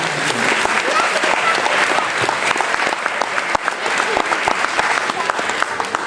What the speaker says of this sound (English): give our wonderful first grade teachers and paras a big round of applause for their help tonight